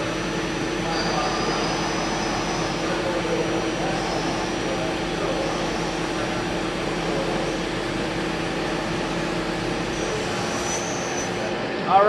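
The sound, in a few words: Femco CNC lathe roughing a part with coolant on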